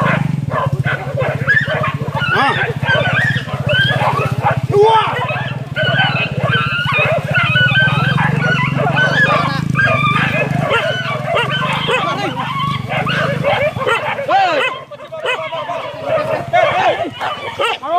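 Hunting dogs bark and yelp on a wild boar hunt, the barks busy and overlapping at close range with shouting men and a steady rumble underneath.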